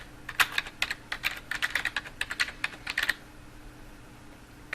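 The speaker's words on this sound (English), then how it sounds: "we can type in" Rapid typing on a computer keyboard, close and fairly quiet, a quick run of crisp key clicks over about three seconds before stopping.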